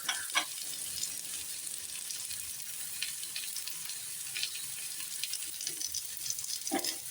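Small vegetable pancakes fry in a pan with a soft, even crackling sizzle, fairly faint and close, broken by a couple of brief clinks.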